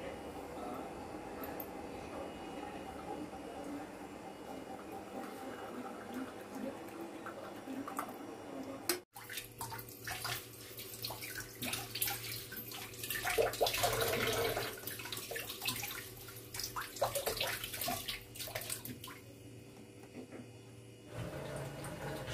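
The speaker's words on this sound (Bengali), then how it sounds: "একটু জলটা বেশি দিয়ে ফেলেছি" Water poured into a pot in a home kitchen while making tea: a quiet stretch, then a sharp click and a louder passage of splashing and trickling that rises and falls, with small knocks, and no talking.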